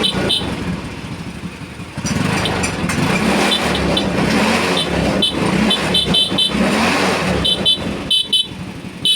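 A motorcycle horn beeps in short, repeated high toots over a rumbling engine and street noise, close by.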